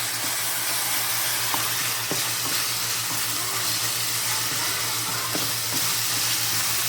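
Keto shepherd's pie filling with ketchup mixed in a sizzling pan, a soft steady sizzle and hum with a few faint utensil taps, quiet and close.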